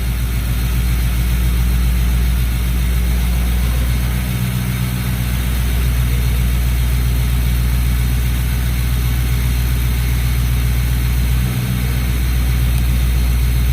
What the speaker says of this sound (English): Seems to be idling really good.